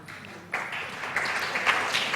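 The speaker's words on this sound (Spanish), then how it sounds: "¿O ese aplauso significa que no hay más preguntas?" An audience in a lecture hall bursts into applause, a sudden burst of many hands clapping that keeps going steadily at moderate loudness without voices over it.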